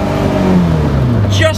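A Caterham Seven 360R on semi-slick tyres pulls out and accelerates hard, its engine note climbing loud and close for a second and a half while a voice talks over it.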